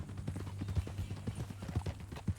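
Horse hooves clip-clopping in Red Dead Redemption 2, a quick irregular run of soft thuds at walking pace, fairly close, over a low steady hum.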